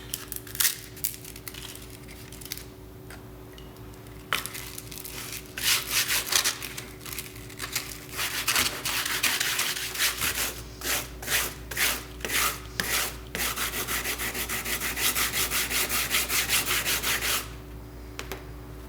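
Coarse sandpaper scrapes back and forth over layers of paint in bursts of rhythmic rubbing strokes, close up, with short pauses between passes and no talking.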